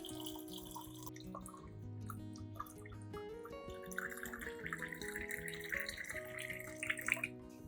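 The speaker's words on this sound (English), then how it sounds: "Next, add about 500 milliliters of clean water." Clean water, about 500 milliliters, is poured into a blender jar, giving a faint, continuous trickling and splashing that grows a little brighter toward the end, heard over a quiet musical background.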